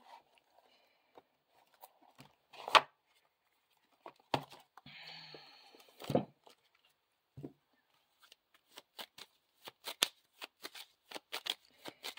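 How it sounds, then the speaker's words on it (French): Tarot cards shuffled by hand for a card reading, giving soft riffling bursts and a run of quick close flicks and taps toward the end, with quiet gaps between. "on va faire un nouveau tirage cartes"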